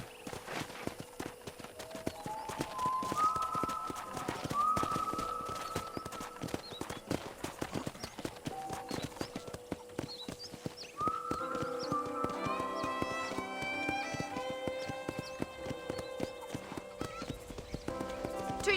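Horse hooves clip-clopping at a steady walking pace in the Red Dead Redemption video game, arriving at a ranch, heard under a bed of game music with occasional whinnies.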